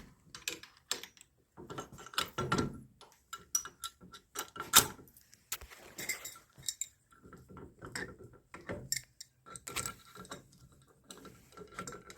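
A hand hose crimper pressing a fitting onto a hose in a Willys workshop, giving a run of close, irregular metallic clicks and ratcheting ticks with short pauses between strokes.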